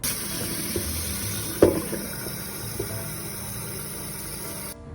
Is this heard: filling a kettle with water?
yes